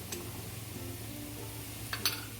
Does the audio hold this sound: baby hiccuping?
no